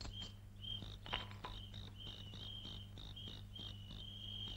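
A cricket chirps in short, regular trills over a low steady hum, faint and close, set in a paper-cut animated film about a cricket fight, with no talking.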